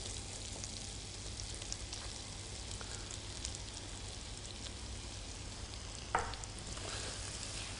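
Finely diced shallot sweating in fat in a pan for mushroom risotto, a faint, even crackling sizzle throughout with one brief louder clink or scrape near the end.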